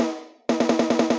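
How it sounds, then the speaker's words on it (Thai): A lingering tone fades, then the original snare of a Thai karaoke backing track for a song cuts in with a quick run of about seven rapid, evenly spaced hits, loud and close. "นี่เสียงสแนเดิมนะครับ"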